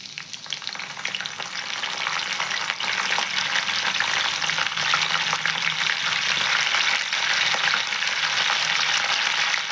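Curry leaves and tempering seeds sizzle in hot oil for a Telugu cluster bean fry, a loud, continuous hiss of frying that builds slightly after the first couple of seconds and holds steady, close-up with no talking.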